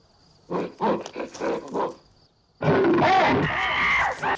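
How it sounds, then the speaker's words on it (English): Ape noises from the film 2001: A Space Odyssey: a run of short grunting, hooting calls, then a louder sustained burst of screeching and roaring, close and loud. "we got monkeys making monkey noises"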